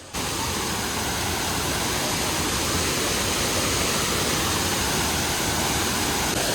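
A loud, steady roar of a cascading waterfall in Laos fills the scene from start to finish, a constant close rushing wash with no pauses.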